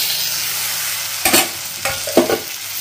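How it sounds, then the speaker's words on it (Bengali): Fried fish heads are stirred through a sizzling spice masala for muri ghanto, with three short scraping stir strokes rising over a soft steady frying hiss. "দিয়ে ভালোভাবে আবার এটা কষিয়ে নেব।"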